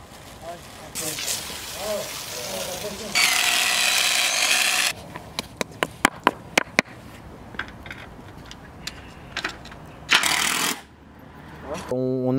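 A power drill bores into the ground to fix guides for a pool enclosure, with loud bursts of drilling separated by sharp clicks, knocks and handling noises.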